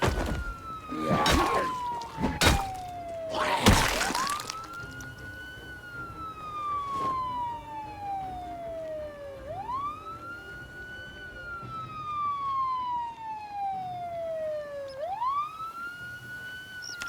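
A wailing siren in the zombie survival game Project Zomboid rises and falls in long, slow sweeps, repeating several times at moderate volume, with a few sharp clattering bursts near the start.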